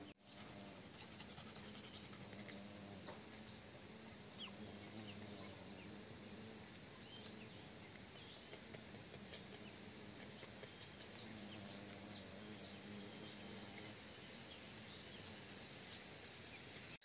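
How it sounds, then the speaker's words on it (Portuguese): Large Brazilian mangangá bees, the biggest bees in the world, buzz steadily in a quiet outdoor garden, a faint continuous drone with scattered insect chirps and bird calls over the full length. "esse zunido? São as maiores abelhas do mundo."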